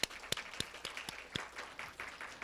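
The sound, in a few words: applause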